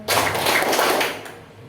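A classroom group claps in a quick patterned burst, a dense run of hand claps lasting about a second and a half before trailing off.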